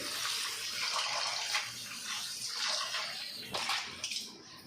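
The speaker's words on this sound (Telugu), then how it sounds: "గోంగూరని నీట్గా వాష్ చేసేసుకున్నాను." Gongura (sorrel) leaves being washed in water, a steady close rush of running and splashing water with a few brief sloshes near the end, no talking.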